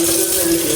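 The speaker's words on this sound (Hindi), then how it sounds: "छन्नी पे डाल देते हैं हम फ़ौरन से पानी" Water pours steadily onto a tea strainer in a kitchen, a loud continuous splashing rush with no pauses and no talking.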